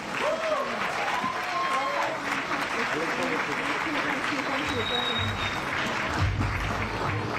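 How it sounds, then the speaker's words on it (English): Audience applause for Assemblyman and Democratic mayoral nominee Zohran Mamdani at a campaign event, a steady wash of clapping lasting throughout with voices talking over it. "Another round of applause for Assemblyman and Democratic nominee Zohran Mamdani."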